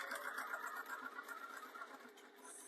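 A domestic sewing machine stitches a small jewellery pouch with fast, even mechanical whirring and clatter, steady and close, fading slightly at the end.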